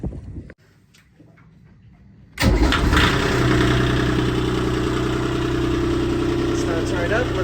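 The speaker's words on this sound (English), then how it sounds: "Let's turn the engine on" Boat engine on a vessel anchored in the bay cranks and catches after a brief quiet spell, then settles into a loud, steady close idle; a voice speaks briefly before it starts.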